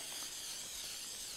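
Cooking spray hisses steadily from an aerosol can onto a 9 by 13 inch glass baking dish, a continuous close, bright spray lasting the whole moment with no talk.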